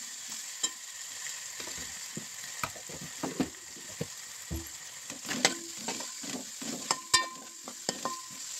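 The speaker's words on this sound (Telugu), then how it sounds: "అల్లం వెల్లుల్లి పేస్ట్, ఆయిల్లో కొంచెం వేగాలన్నమాట." Ginger garlic paste sizzling in hot oil for a tamarind fish curry, a continuous close frying hiss broken by repeated spoon scrapes and knocks against the pan.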